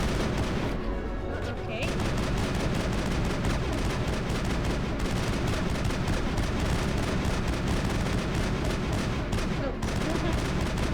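Sustained gunfire from the Mass Effect video game, dense rapid shots rattling loudly and continuously with a brief lull early on, while someone speaks a few short words over it.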